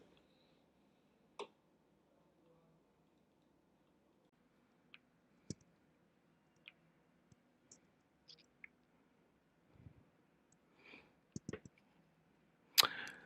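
Quiet, sparse computer mouse clicks sound at irregular intervals while a page is being edited in a web funnel builder, with a brief cluster of faster clicks near the end and no talking.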